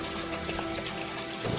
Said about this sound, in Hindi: अब बारिश पहले से भी ज्यादा बढ़ चुकी थी